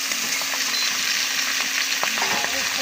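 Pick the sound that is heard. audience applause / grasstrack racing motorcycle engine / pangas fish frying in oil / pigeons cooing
pangas fish frying in oil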